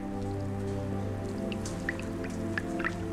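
Water drips falling inside Yongcheon lava cave on Jeju, a few sharp separate plinks over a steady low hum, spaced irregularly and fairly faint.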